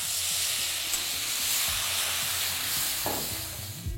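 Turmeric and Kashmiri chili powder fry in oil with a little water added, producing a loud, steady sizzle and hiss with intermittent stirring scrapes throughout, close and without talk.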